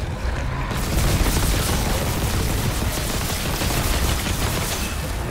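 Dense, continuous gunfire and heavy weapon blasts from the Dead Space remake video game, loud and rapid, forming a sustained barrage of booms and shots with no pauses.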